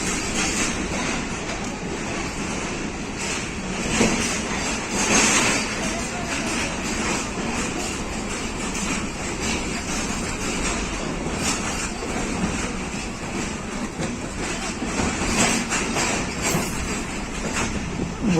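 Pakistan Railways' Rehman Baba Express rolls along the track with a continuous rumbling, rattling carriage noise and periodic clicks, heard from inside the train for the whole stretch.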